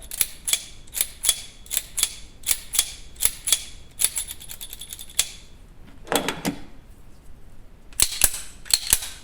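A Star 1914 pistol's mechanism being worked by hand: rapid sharp metallic clicks and snaps in uneven bursts, a brief sliding scrape near the middle, then more clicks, close and unaccompanied by talk.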